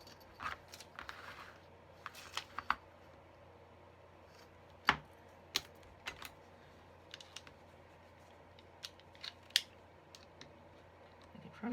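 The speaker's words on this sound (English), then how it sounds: "I could probably take a pair of scissors and do this." Scissors cutting the spine piece of a handmade bound journal, with quiet, scattered crisp snips at irregular intervals in a hushed room.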